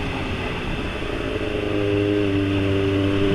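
A Kawasaki ZX-25RR motorcycle engine drones steadily while riding on a morning commute, a close continuous buzz whose pitch rises and firms up partway through, with wind rush around it.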